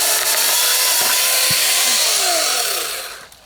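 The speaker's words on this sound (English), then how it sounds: "My wife has got a chainsaw." An AEG battery chainsaw cuts through wood, giving a loud, steady whining buzz that holds for about three seconds and then fades as the cut finishes.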